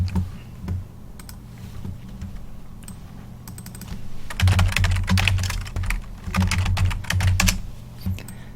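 Fingers type a search on a computer keyboard, with irregular clacking keystrokes near and clear, sparse at first and then denser in quick bursts, with no speech over them.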